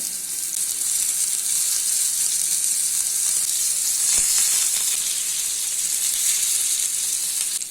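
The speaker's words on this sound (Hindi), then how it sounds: "इसको हाई फ्लेम पे 2 मिनट तक फ्राई कर लेना है।" Rohu fish coated in semolina frying on a high flame, a dense, constant hissing sizzle close up, with one brief knock partway through and no talk.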